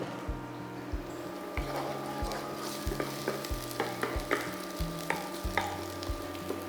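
Oil fries in a pan while a wooden spoon stirs it, each stroke a soft knock or scrape over a continuous sizzle, with a low steady hum beneath.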